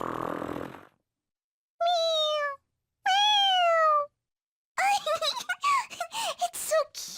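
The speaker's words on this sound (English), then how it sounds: "It meows when you press on its head." A cat toy in the video game Persona 5 Royal meows when pressed on its head, giving two clear, drawn-out meows, then a quicker run of chirpy meow-like calls, after a brief burst of noise at the start.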